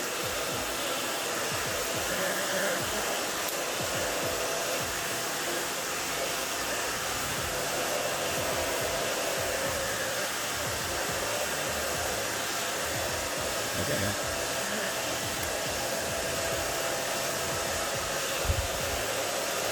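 A hair dryer blow-drying short pixie-cut hair runs as a steady, close, loud whooshing hum that goes on without a break for the whole stretch.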